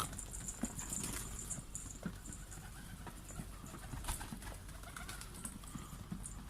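Pigeons settle onto a new coop in a low, quiet scene: soft wing flutters and light patter of landing birds, a few sharper taps scattered through, with faint hiss and no talk.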